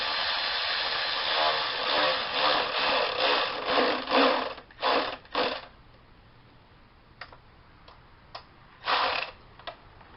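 An electric wrench spins bolts into an oil filter housing on a 2014 Dodge Avenger, first in a sustained ticking run, then in short separate bursts, close by.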